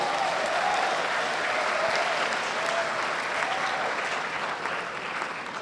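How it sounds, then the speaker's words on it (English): Warm, steady applause from a conference audience at an academic lecture session on diversity, many hands clapping evenly throughout with faint background voices. "Please give applause to our distinguished speakers."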